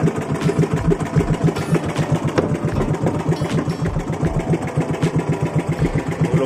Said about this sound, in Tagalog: Pandaro tayo ng makina